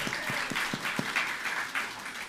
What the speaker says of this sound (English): Join me in giving our new graduate a big round of applause.